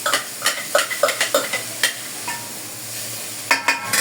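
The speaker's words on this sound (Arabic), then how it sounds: "ننزل بقى بالبصل" Onions for stuffed vegetables sizzle in a generous amount of hot oil while a spoon stirs the pan in quick, regular scraping strokes, close and fairly loud, with no talking.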